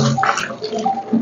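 Water poured over a pet dog named Wifi during an indoor bath, splashing and running in a steady close wash with brief spattering bursts, no talk.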